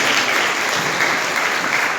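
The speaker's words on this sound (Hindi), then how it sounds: "हालेलुया, जोर से ताली बजाएंगे," Church congregation at a Sunday prophetic service clapping hard, a dense, loud, continuous burst of applause filling the room with no speech over it.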